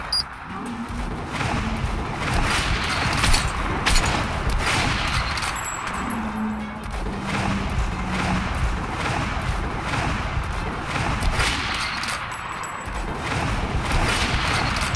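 Gunfire from the video game Metro Last Light, where a sniper rifle is in use: sharp shots crack out repeatedly over a busy, noisy game soundscape with a steady rumble.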